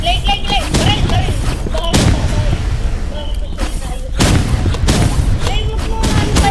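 Rapid gunfire and explosive booms in Marvel Rivals, a shooter video game, crackle in repeated bursts across the whole stretch, loud and close, while players talk excitedly over the shots.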